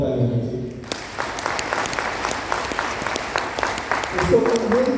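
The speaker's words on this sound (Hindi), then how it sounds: "जोरदार तालियां दीजिए" An audience at a motivational talk bursts into loud, sustained applause, with dense clapping close by and filling the whole clip. A voice speaks briefly at the start and again near the end.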